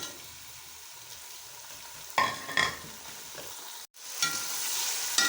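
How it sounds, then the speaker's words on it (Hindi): Chopped tomatoes sizzle and fry with spices in a pan for aloo matar pulao, a steady hiss broken by louder scraping stirs around the middle, one brief silent gap, then stronger sizzling to the end; no talk. "और इन मसालों के साथ ही हम ऐड कर देंगे इसमें 3 हमने ले लिए हैं मीडियम साइज़ के टमाटर"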